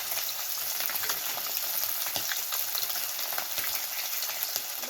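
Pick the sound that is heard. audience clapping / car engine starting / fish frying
fish frying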